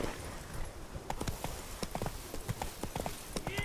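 Roach the horse trots along in The Witcher 3: Wild Hunt – Blood and Wine, hooves clip-clopping in a steady, close rhythm over a soft outdoor ambience, with a brief snort or whinny.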